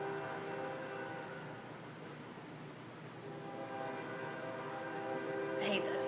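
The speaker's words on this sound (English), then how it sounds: "Hold on, there's a train coming." A train passes at a distance, its horn sounding in long sustained tones over a low rumble of rail cars, faint and steady throughout.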